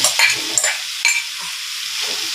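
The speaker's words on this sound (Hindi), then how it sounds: "अब उसमें हम भिंडी को डालेंगे।" Okra going into a frying pan and getting stirred while making dry bhindi, with a few scraping stirs and a soft oil sizzle underneath, close by and with no talking.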